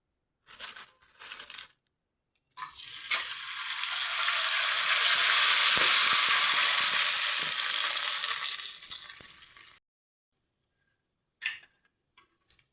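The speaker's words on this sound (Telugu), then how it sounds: "పిండి వడియాలు కూడా వేయించుకుందాం" Rice flour vadiyalu fritters frying in a pan, a loud, close sizzle that swells and then cuts off, with a few short crackles before and after it and no talking.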